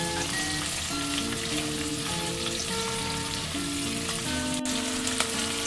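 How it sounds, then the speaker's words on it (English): Onions sizzling in a pan until translucent, a steady, even frying hiss that runs throughout at moderate loudness, close up, with no talking. "we'll just fry them until they turn translucent, that's light pink in color."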